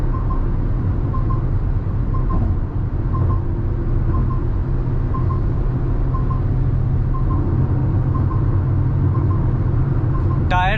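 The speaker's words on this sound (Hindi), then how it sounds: "और जैसे ही 120 जाएगी तो गाड़ी में अच्छी खासी विंड नॉइज है।" Heavy wind roar fills the cabin of a Maruti Victoris LXi CNG driving at about 120 km/h, a loud, constant rushing drone with a faint, regularly repeating beep beneath it.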